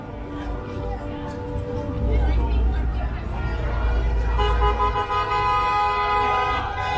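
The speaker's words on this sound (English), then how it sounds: "You have to wonder though if all this honking is kind of hard on those doggies' ears, you know?" Car horns honk at a trucker convoy protest on a city street, sustained blaring toots layered over traffic and crowd noise, with a loud deep horn blast in the middle of the clip.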